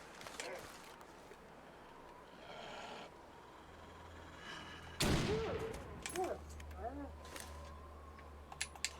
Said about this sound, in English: we're going to shoot you in the goddamn face